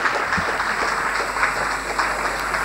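Audience applause at an address by a women's education minister, a dense, even patter of many hands clapping steadily for a few seconds, moderately loud and continuous.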